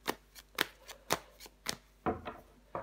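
Tarot cards handled and laid down one by one on a table, a series of crisp, close snapping flicks and slides about every half second, with a brief shuffling rustle near the end.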